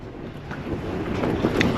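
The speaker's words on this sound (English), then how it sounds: "Just check the wind outside, currently 60 mile an hour, gusts of 60." Gusty wind of about 60 mph roars and buffets outside a tent on a hill, a steady whooshing rush that swells slightly toward the end.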